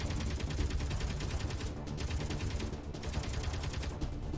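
Turret in Space Engineers firing rapid continuous bursts, a loud rattling stream of gunfire with brief breaks between volleys.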